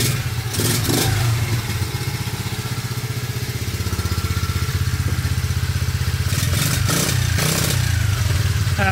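A Piranha ZR 90 pit bike's small engine idles nearby with a steady, rapid putter, running low on fuel with the gas shut off, sputtering with occasional rougher bursts and uneven stammering toward the end.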